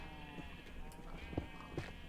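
Sheep bleating in a multiplayer block-building game, two or three short nasal bleats at moderate distance over a soft ambient background.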